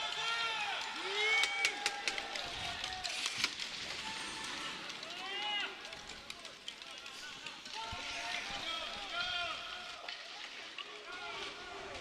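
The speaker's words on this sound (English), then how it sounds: "There's a crowd in here" A crowd murmurs and cheers in an indoor arena during a para ice hockey qualification game between Korea and Norway, a steady hubbub with scattered shouts, skate scrapes and stick clatter beneath a commentator's voice.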